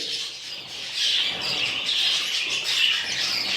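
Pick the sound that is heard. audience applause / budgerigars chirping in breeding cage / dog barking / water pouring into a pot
budgerigars chirping in breeding cage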